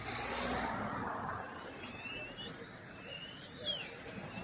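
Small birds chirp and tweet in Biograd na Moru, with quick rising and falling calls from a few nearby birds over a soft background rush of outdoor noise.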